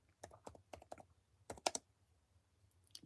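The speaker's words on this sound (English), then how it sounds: "Let me type it in." Quick bursts of typing on a computer keyboard, crisp close key clicks in short clusters with pauses between, over a faint low hum and no speech.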